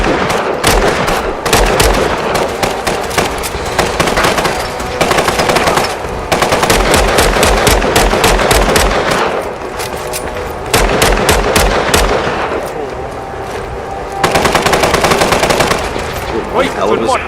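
Loud automatic gunfire from the Fallout 4 video game rattles in rapid bursts separated by short pauses, with sharp single shots mixed in, close and dominant throughout.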